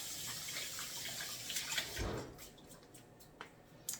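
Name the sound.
wool garment soaking in water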